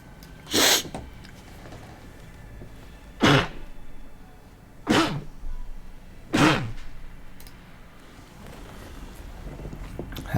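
Four loud, sharp sneezes from one person up close, spaced a second or two apart, each a sudden burst with a quick snort-like release over quiet room background.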